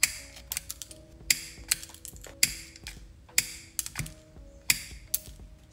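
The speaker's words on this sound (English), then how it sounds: "I am going to be using my nail tip cutters to cut down some of the length." Nail tip cutters snip artificial nail tips for a dip powder manicure. Crisp, close clicks and snaps come in a loose, repeating rhythm with short pauses between the cuts.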